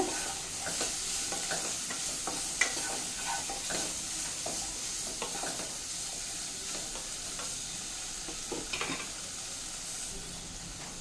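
Paneer and garam masala are stirred in a hot pan, with a continuous sizzle and frying hiss under repeated spatula scrapes, close and steady throughout.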